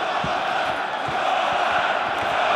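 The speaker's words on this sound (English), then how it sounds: "you hear the crowd now urging on their living legend, Fedor Emelianenko" Russian arena crowd at an M-1 Global MMA fight roaring to urge on Fedor Emelianenko against Jeff Monson, a sustained loud mass of shouting with bellowed chants swelling over a steady din.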